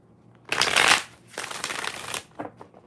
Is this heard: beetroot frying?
no